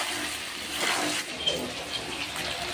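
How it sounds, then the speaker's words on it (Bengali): Water pours into a pan of browned chicken kosa, a steady close splashing rush that bubbles and hisses against the hot masala. "এখন জলটা দিয়ে দেওয়া হচ্ছে"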